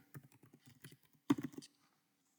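Quick keystrokes on a computer keyboard while typing an email address, a light run of taps followed by a denser cluster of clacks, close and clear over near silence.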